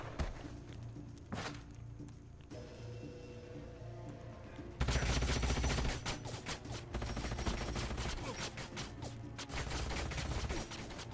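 Sci-fi turn-based strategy combat in Age of Wonders: Planetfall, with a loud burst of rapid gunfire and crashing impacts after a quieter stretch of scattered game sounds.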